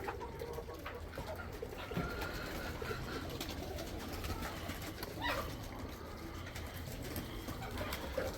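Homing racing pigeons coo in a loft at dusk, soft repeated low coos over a steady background hum.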